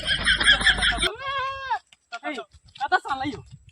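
Goat bleating in a loud, wavering burst that gives way to several shorter, quavering bleats, with voices talking over the later calls.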